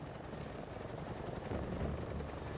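Steady rotor and engine drone of an RAF Chinook helicopter after an extensive refit, a dense continuous rumble holding level throughout with a slight swell near the end.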